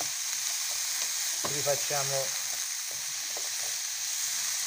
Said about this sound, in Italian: in quest'altra padella dove c'è l'aglio andiamo a metterci i funghi